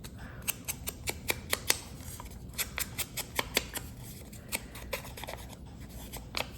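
Scissors snip out paper images for a scary-stories junk journal, a steady run of sharp, close cuts repeating every few tenths of a second over a quiet room hush.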